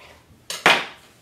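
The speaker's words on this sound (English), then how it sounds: "So what I do is cut them up in quarters here" A knife cutting pastry dough into quarters for Jamaican curried beef patties makes two quick, close clacks against a board, the second louder and ringing briefly.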